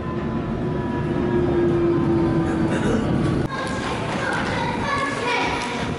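A London Underground train stands at a station platform, its steady low rumble and hum filling the space, with a brief jolt midway before the loud mechanical drone carries on.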